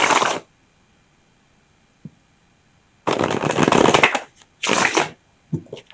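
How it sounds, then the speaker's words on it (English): Tarot cards being shuffled in quick riffling bursts, a short one, then a longer rattle and another, close and crisp amid quiet pauses. "One more shuffle."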